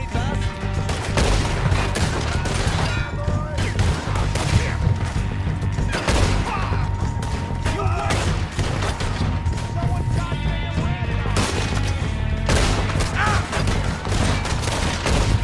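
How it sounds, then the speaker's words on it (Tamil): Dense gunfire in Red Dead Redemption 2, repeated sharp shots and volleys cracking loudly and continuously, with occasional faint talk beneath. "துப்பாக்கி பறக்குதுங்க."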